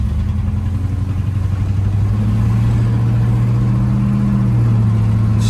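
A 1968 Buick Electra engine drones steadily while cruising, a low, even hum that holds loud and close throughout with a slight rise in pitch partway through.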